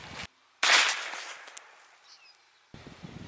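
A single sharp, loud blank round goes off about two inches from a soda can, a close crack followed by a short ringing decay and quiet scuffling afterward.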